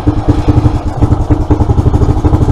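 A Suzuki FL125 motorcycle engine, just fired on the electric start button, runs with a loud, close, rhythmic single-cylinder chug and a steady pulsing beat throughout.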